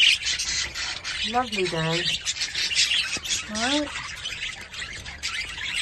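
Birds squawk and chirp indoors, two short rising calls close by under a steady hiss while a person talks.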